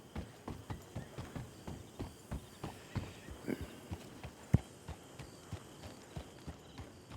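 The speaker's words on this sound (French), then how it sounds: "À partir d'un certain endroit, on n'a plus le droit de galoper." Horse in a video game moving with steady, rhythmic hoof clip-clops, fairly soft and evenly spaced, with one sharper knock partway through and no speech.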